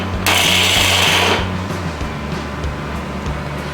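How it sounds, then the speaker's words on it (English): A mixer grinder whirs with a low motor hum as roasted dry nuts are ground in its jar for ladoos, with a harsh gritty burst of grinding near the start before it settles into a steady drone. "you take all the roasted dry nuts into the jar and then you again grind it"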